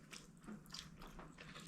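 Crisp crunching bites into a homemade butter pretzel with a rough, crispy crust, soft bread and melting butter, several short close bursts of crackle followed by softer chewing, with no talking.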